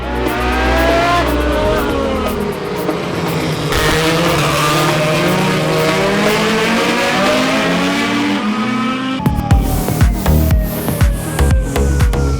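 Sprint cars race in the final heats, their engines roaring loud and continuous with rising and falling pitch as they pass. A sharper, choppier burst of engine noise comes near the end.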